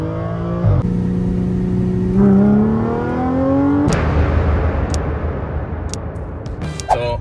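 Audi S4 B8.5 engine revving up toward 7,300 RPM, a rising tone that climbs steadily for several seconds before dropping off, followed by a few sharp clicks and a brief rev at the end.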